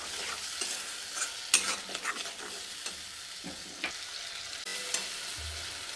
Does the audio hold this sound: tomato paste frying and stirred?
yes